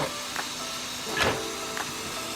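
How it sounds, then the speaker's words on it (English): Electric motor of a Traxxas Stampede RC car under repair, whining with a steady tonal hum, close up and fairly loud, with a few brief rising surges. "at least we know the motor still works"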